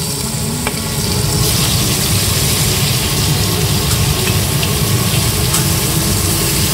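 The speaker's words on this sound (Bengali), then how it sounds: "আলুটা ভালো করে ভেজে নিতে হবে।" Cut potatoes fry in hot oil with crushed garlic cloves in a pan, a loud, steady, close sizzle with constant crackling and no talking.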